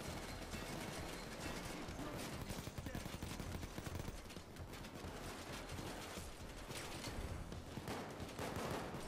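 Continuous gunfire from the PC game Payday 2 during a heist, with rapid shots and bursts layered in a dense, loud mix, plus a voice briefly over it.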